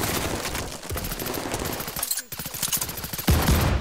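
Video game gunfire from Call of Duty: Vanguard in a Search and Destroy match, rapid bursts of shots in quick succession with a brief pause, loud and close, mixed with voices chattering over it.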